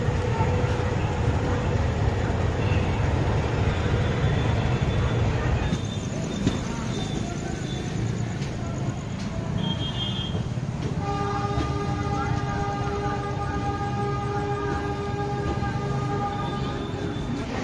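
Shalimar-Puri superfast express running after leaving Shalimar station, a loud continuous rolling roar heard from on board with steady tonal hums joining partway through.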